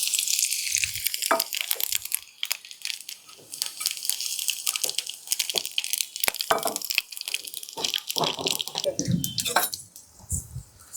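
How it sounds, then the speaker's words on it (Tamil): Cardamom, cumin, fennel and cloves fry in hot oil, giving an uneven crackling sizzle broken by sharp pops and spits, with a voice briefly heard at moments. "ஏலக்காய், சீரகம், சோம்பு, கிராம்பு எல்லாம் சேர்ந்ததை இப்போ போட்டு எண்ணெயில் பொரிய விட்டுக்கிடுவோம்"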